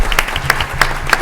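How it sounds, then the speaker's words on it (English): Applause from a symposium audience for an intern program's founder, a short stretch of dense clapping with a few sharper claps standing out over a low room rumble. "all of you interns out there really need to give Peter Rogoff a round of applause"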